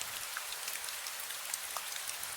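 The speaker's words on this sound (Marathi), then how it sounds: "श्रावणाच्या सरी बरसल्या या अंगणी" Monsoon rain showers fall steadily, a dense patter of close raindrops with scattered brighter drips, continuous and even with no voices.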